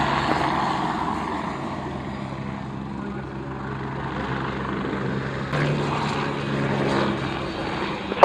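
A propeller aircraft takes off on runway 09 for an airshow display at the Royal International Air Tattoo, its engine a sustained rumbling drone that swells toward the end, heard from a moderate distance.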